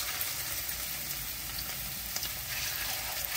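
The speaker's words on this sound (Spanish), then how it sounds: "Aquí ya tenemos el sartén caliente. Voy a empezar a agregar ahora las tortitas de carne molida." Ground beef patties fry in a hot skillet with a steady, dense sizzle and faint crackling pops, close and moderately loud throughout, with no voices.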